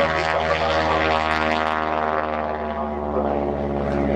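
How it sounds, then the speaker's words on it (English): An RAAF Winjeel propeller aircraft passes close by, its propeller tips nearing supersonic speed in a sustained droning howl with strong harmonic tones that stays loud and slowly shifts in pitch. "That weird howling noise as the aeroplane went past us was the tips of the propeller getting very close to supersonic speed"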